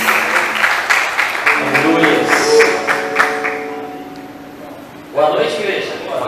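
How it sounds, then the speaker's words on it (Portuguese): Church congregation at an evening service clapping steadily for a few seconds, fairly loud, with a voice speaking over it, then fading before a new burst of sound near the end. "Aplauda o nome do Senhor."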